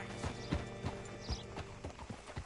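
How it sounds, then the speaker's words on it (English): Horse hooves clip-clopping in the Red Dead Redemption 2 video game, a slow, steady walking rhythm of distinct thuds with faint creaks of tack, close and clear, no voices. "Hitch your horse up here."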